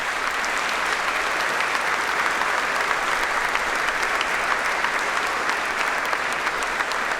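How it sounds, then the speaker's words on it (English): An audience at a university graduation ceremony applauds steadily, a dense, even wash of many hands clapping at constant loudness with no speech over it. "give a round of applause for all those who have supported you"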